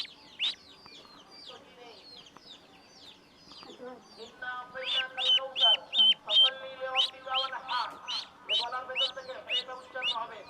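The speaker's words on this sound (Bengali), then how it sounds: "হাঁসের বাচ্চা রাখো ওটা হাঁসের বাচ্চা" Ducklings peep and cheep in rapid, high-pitched bursts, growing louder and busier after a quieter start, close by.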